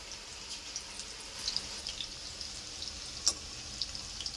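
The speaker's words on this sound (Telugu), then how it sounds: "అన్నీ ఇలాగే డీప్ ఫ్రై చేసుకోవాలండి" Chicken pakodi deep frying in oil on a low flame, a faint steady sizzle with soft crackles and a couple of brief sharper pops, no voices.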